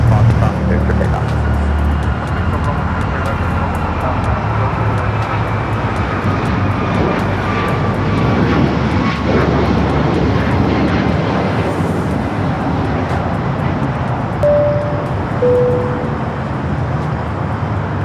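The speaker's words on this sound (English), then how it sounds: "runway 25 right up on the top. Clear for takeoff." An airliner takes off from runway 25 right at Los Angeles International Airport, its jet engines producing a loud, steady roar that stays strong throughout the clip, with faint road traffic mixed underneath.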